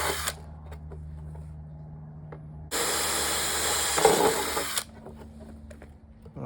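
A power drill bores a screw hole in wood while building table drawers for a Toyota Sienna camper: one steady, close whirring burst of about two seconds over a low background hum.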